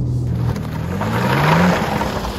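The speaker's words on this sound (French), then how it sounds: "Petite accélération encore, waouh" A BMW M2 with a 460 hp inline six engine accelerating, its engine note rising in pitch as revs climb, loud and close, with a brief shift-like dip midway.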